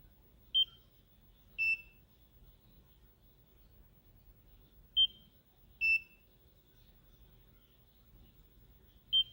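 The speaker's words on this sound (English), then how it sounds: "It makes a beep." A skin treatment device gives short high-pitched beeps in pairs, repeating every few seconds over a quiet background hum.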